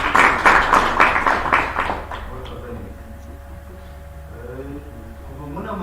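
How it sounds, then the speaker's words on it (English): An audience claps for a speaker at a World Anesthesia Day event in a hotel, with dense clapping for about two seconds that then stops, leaving a quiet room with faint murmurs and a low hum. "Please clap for her."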